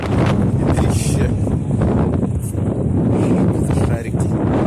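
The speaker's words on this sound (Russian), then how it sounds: "Ветрище." Strong wind batters the microphone outdoors, a loud continuous roaring rumble that persists throughout.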